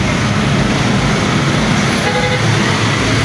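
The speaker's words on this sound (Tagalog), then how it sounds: "Ito pong kasawa kaya talagang napakaraming sasakyan ng dumadaan dito." Heavy rush-hour traffic at the busy Tejero intersection, a loud, steady wash of engines and road noise from cars, buses and trucks, with a horn toot and faint voices mixed in.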